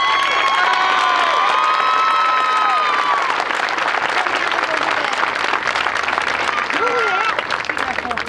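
Loud, sustained applause with cheering fills a high school graduation ceremony for the class of 2016, honoring the salutatorian, a dense crowd clapping continuously throughout.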